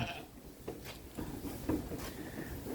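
Rare breed sheep bleat a few times at close range in a winter farm shed during lambing preparation, short soft calls alone with quiet shuffling between them.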